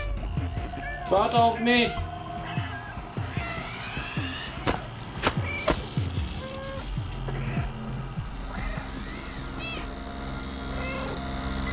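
A cat meows in the video game Stray, several short cries scattered among game sounds and music, with a person talking and also imitating a meow.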